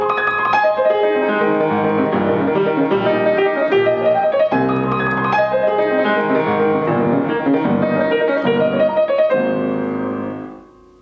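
Fast demisemiquaver run from a Beethoven piece played on piano, dense rippling figures sweeping up and down continuously for about ten seconds, loud and close, ending in a short decay.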